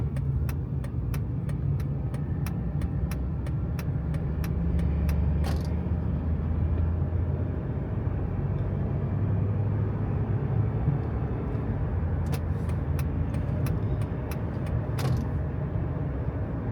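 A truck driving just ahead on the road gives a steady, loud low engine rumble that runs through the whole stretch, with a few sharp ticking clicks near the start and again toward the end.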